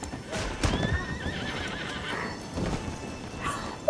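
Horses in Red Dead Redemption 2 whinny and neigh over steady clip-clopping hooves on a trail ride, with several loud neighs standing out and little else in the mix.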